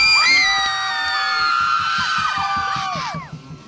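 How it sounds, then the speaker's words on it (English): A crowd at an indoor soccer match between the Anaheim Bolts and Revolucion Tijuana cheers and shouts loudly, with whistles and horns sounding over rhythmic drum beats, the noise fading toward the end. "Let's hear from the crowd."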